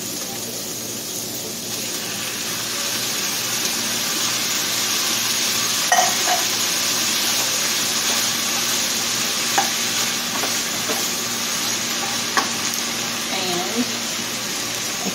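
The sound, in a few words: stirring browned meat, onions, peppers, garlic with Rotel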